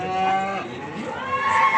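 Calves moo loudly and close at the Beylagan livestock market, with two drawn-out, tonal bellows, one at the start and another near the end, over the steady murmur of the market.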